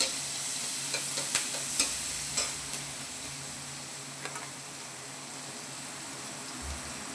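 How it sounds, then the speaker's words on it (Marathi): Green chili, cumin, turmeric and salt frying in oil with garlic, a low steady sizzle broken by a few sharp ticks and taps of a spoon against the pan, no voices. "हिरवी मिरची, जिरी, हळद, मीठ तेलात तळून घेतल्यावर कारलं करू लागत नाही."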